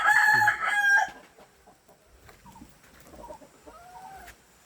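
A rooster crows loudly once at the start, followed by softer scattered clucks and chirps from hens nearby.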